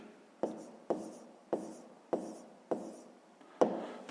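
A pen writes a math answer by hand on paper, six evenly spaced scratchy strokes with a sharp start and fading tail, close and quiet, no voice over it.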